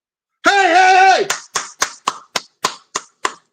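A voice sings a long held note, then hands clap sharply in a steady rhythm, about eight claps, each loud and close.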